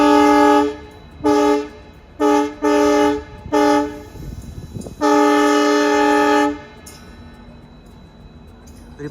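A WDP 4B diesel locomotive hauling the Bandra–Jaisalmer Superfast Express sounds its horn close by in a series of loud blasts, several short ones and then a long one, with heavy rail rumble as the train moves past.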